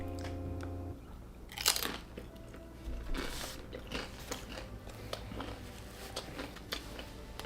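Crisp bites and crunchy chewing of Subway steak nachos made with nacho cheese Doritos chips, with several close crunches followed by steady chewing, no talking.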